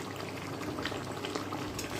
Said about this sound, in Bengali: তো এটা যখন কষে তেলটা বেরোনো শুরু হয় তখন আমি ফুটিয়ে রাখা গরম জলটা এর মধ্যে দিয়ে দেবো।